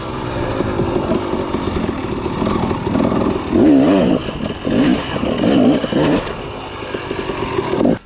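An off-road motorcycle heard from a helmet camera on a two-stroke versus four-stroke ride, its engine buzzing and revving in loud rising and falling bursts, with wind rushing against the helmet throughout.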